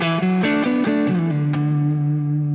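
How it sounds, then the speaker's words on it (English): A distorted electric guitar, a Suhr, plays a few quick notes, then holds a ringing chord; the reverb, set with no pre-delay, swells in immediately, with no pause before the tail. "I'm going to play, and then you're going to hear the reverb."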